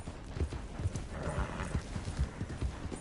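A horse gallops in Red Dead Redemption 2, its hoofbeats thudding in a quick, even rhythm up close and loud throughout.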